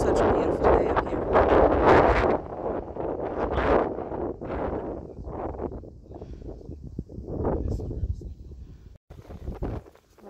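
Gusty wind roars across an open hilltop in a New York forest, loud buffeting surges hitting the microphone in waves, easing and rising again, with a voice speaking intermittently underneath.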